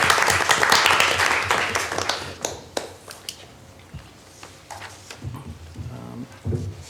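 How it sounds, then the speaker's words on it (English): Brief applause at a college board of trustees meeting, a short burst of clapping from a small group that quickly thins into scattered claps, thumps and room noise. "Okay, we can clap for her."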